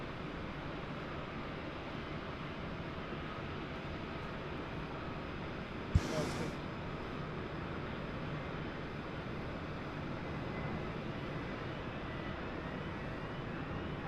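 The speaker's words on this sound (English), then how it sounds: "UPS 152 now, the 767 departing runway 3-4 left." A UPS Boeing 767 taking off from runway 34 left at Sydney Airport at night produces a broad, steady jet roar heard from a distance, with one brief click partway through.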